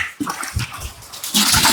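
Water pours and splashes while a fish tank is being cleaned, an uneven gurgling flow that swells louder near the end, heard up close.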